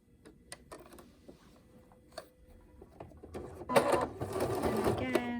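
A sewing machine stitches a surgical mask in short bursts of rapid mechanical whirring, with quieter starts and a louder, sustained run of stitching toward the end, close by.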